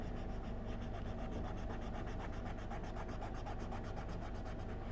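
Wax crayon rubbed hard by hand into cotton fabric, giving a steady close-up scratchy friction with rapid back-and-forth strokes that continue without pause.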